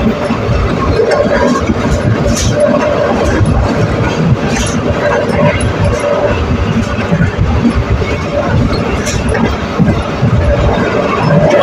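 The Jaffar Express passenger train rumbles steadily along the rails between Lahore and Okara, a dense continuous roar with faint rhythmic clatter and occasional higher squeals, heard from on board.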